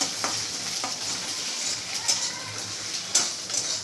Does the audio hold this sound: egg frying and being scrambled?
yes